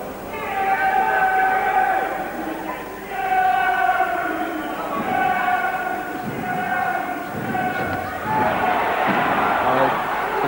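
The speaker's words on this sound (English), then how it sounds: "Crowd signalled that they liked that punch" Crowd at a boxing bout between Kostas Petrou and Gary Sommerville reacting to a landed punch, a steady roar of voices with swells of cheering, loud and continuous across the whole stretch.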